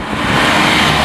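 A lava orange Porsche GT3 RS sports car driving past on a road, a loud steady engine roar and tire rush filling the whole moment, close by and without talk.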